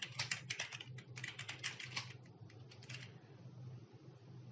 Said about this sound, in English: I type my current password and I type it again and I type it again.